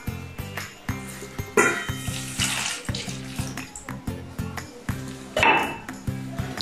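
Milk poured from a container into a bowl of baking ingredients, a steady liquid splashing and trickling that comes in short bursts, close by, with no talking.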